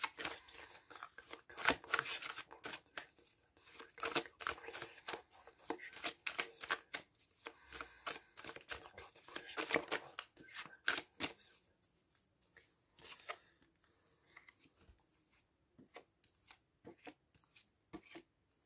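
Tarot cards being shuffled and drawn, giving dense rapid riffling and flicking bursts for about eleven seconds, then sparser single snaps and slides of cards, close and fairly quiet.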